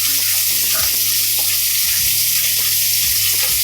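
Onion, tomato and garlic sauté in hot oil for a Tamil pirandai kara kuzhambu, a steady close sizzle with occasional scraping stirs running throughout.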